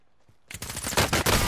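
Bursts of rapid automatic gunfire erupt loud and close during a squad firefight in a battle royale shooter, starting after a quiet moment and continuing in dense volleys.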